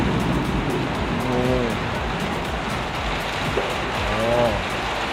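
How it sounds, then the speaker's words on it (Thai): Rain hisses steadily outside a wood-fired Italian pizza restaurant in Bang Na, a constant wash of sound under someone speaking. "เพราะตอนนี้ฝนตก"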